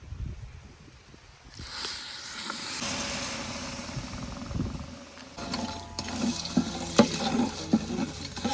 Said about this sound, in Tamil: 1 கிலோ வெல்லம் போட்டோம்னா அதுக்கு 1/4 லிட்டர் தண்ணி ஊற்றணும்.